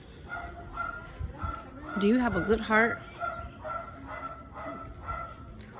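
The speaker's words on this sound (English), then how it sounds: "Hopefully this dog stops barking." A dog barks in excited bursts from nearby in Mérida, Mexico, its yips and whimpering barks repeating throughout while someone talks over them.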